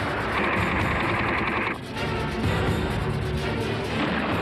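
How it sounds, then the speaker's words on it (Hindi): Dense, continuous battlefield gunfire with rapid machine-gun bursts and heavy explosive crashes, loud and close throughout, with a brief dip before the barrage resumes; no speech over it. "तुम मेरी फिक्र मत करो, अपनी पोजीशन लो और फायरिंग करो।"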